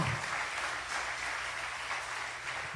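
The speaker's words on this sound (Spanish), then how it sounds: "Alguien dale un aplauso al Señor." A congregation claps for God during a church service, a fairly soft, steady wash of many hands with a low hum beneath, continuing evenly without talk.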